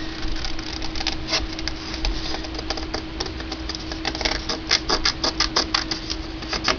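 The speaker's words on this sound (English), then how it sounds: "showing people how to cut the pages out" Rapid, close paper-cutting snips and rustles as pages are trimmed out of a handmade journal, with irregular crisp ticks quickening into a denser patter near the end, heard alone without talk.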